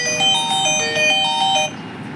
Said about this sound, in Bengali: ট্রেন যখন দাঁড়ায় না যে হরেনটা দেয় ওরকম হরেন দিতে দিতে ট্রেনটা যাচ্ছে